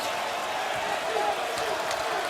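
A basketball arena crowd during Kentucky vs South Carolina roars after an alley-oop dunk. The steady, broad cheering and applause lasts throughout at a moderate distance, with a commentator talking over it.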